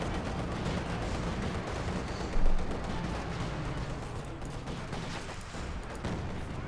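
Mortar fire in Company of Heroes 2 battle: a continuous dense rumble of explosions and gunfire, with one louder thump standing out midway through the steady barrage.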